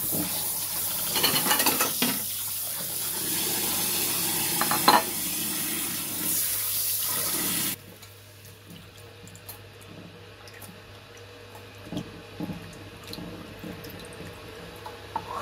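Running water splashes and pours steadily over raw meat as it is rinsed, with handling noises, then quieter drips and clatter after the flow stops.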